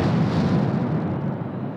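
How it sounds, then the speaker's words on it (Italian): Firecrackers burst inside San Siro stadium during a football match, a loud booming blast that rolls into a dense, lingering rumble of crowd noise. "Esplodono petardi intanto a San Siro."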